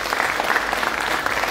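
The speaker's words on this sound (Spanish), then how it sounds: "ahora recibamos con un fuerte aplauso a la maestra Sandra Gallardo González." An audience at a literary book event welcomes a speaker with a loud, dense round of applause, a continuous crowd clapping throughout.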